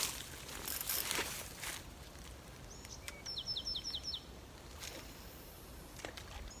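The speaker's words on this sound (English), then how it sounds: "You can hear the birds chirping." Small birds chirp in a quick run of high tweets against a faint, airy outdoor background beside a lake, with the calls fairly distant and no talking.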